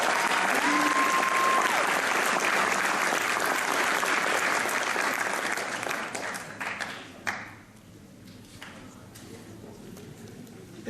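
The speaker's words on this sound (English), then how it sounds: "Let's give them one more big round of applause." An audience at a high school honors convocation applauds, a loud sustained round of clapping that thins and tapers off into scattered claps over the last few seconds.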